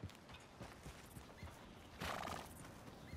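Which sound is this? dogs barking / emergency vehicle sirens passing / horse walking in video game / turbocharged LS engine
horse walking in video game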